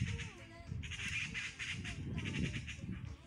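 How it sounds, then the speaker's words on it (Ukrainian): Magpies chattering overhead outdoors, a steady run of harsh, rattling squawks heard at moderate distance, with some low background noise beneath. "Он вони там. Сорочки. Білобочки. Розстрикоталися."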